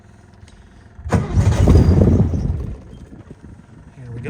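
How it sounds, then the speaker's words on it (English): A 1970 VW Bug-based Manx replica dune buggy cranks and fires up with a sudden loud rumble, revs briefly, then settles to a lower running idle, while a person speaks nearby. "give it a little bit of gas, and it should fire right up"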